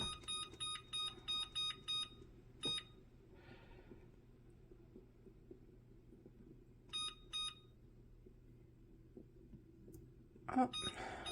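An electric kitchen stove's timer beeps in short repeated bursts, several quick beep groups near the start and a pair later, loud against a low room hum, while a pot of beef noodle soup simmers.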